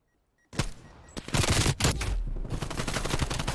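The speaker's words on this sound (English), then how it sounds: "Nice shots there from Rye." Gunfire in a competitive video game match sounds as a sudden loud burst after a brief silence, followed by rapid overlapping shots and a sustained volley of automatic fire.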